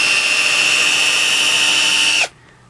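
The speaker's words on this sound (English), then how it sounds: "I'm going to take and drill me a pilot hole." Power drill boring a pilot hole into wood, a loud close high-pitched whine that runs steadily for just over two seconds, then cuts off abruptly into near silence.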